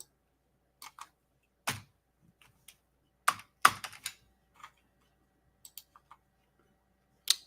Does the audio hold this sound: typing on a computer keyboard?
yes